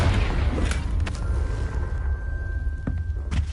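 Fiery Confringo spell blasts in Hogwarts Legacy, several loud booming bursts with a sustained whining tone between them, thick low rumble throughout and no talking.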